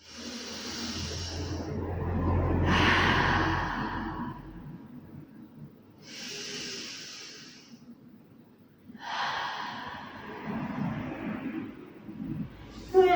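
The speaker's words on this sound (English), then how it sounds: "Take a few nice deep breaths." Slow, deep breathing in a wide-angle yoga forward bend: four long, close breaths with airy inhales and exhales separated by short pauses, and no talking.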